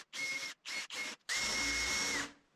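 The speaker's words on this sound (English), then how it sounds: "I'm using 60 grit sandpaper here." Short bursts of rotary power-sanding on a surfboard with 60 grit sandpaper: three brief passes, then a longer sustained run, each with a steady whining tone, close up.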